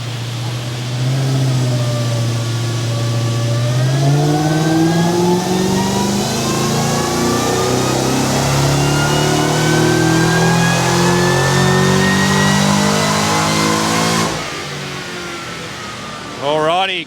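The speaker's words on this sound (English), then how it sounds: "the beautiful GDF, supercharged 5-litre on the dyno" Supercharged 5-litre Ford Barra engine with intercooler, smaller pulley, exhaust and tune, revving on a dyno, its loud note climbing steadily in pitch through a long pull before cutting off abruptly near the end.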